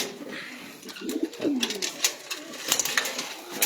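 Sialkoti pigeons coo on a rooftop, a few soft rolling calls rising and falling close by amid scattered clicks and background noise.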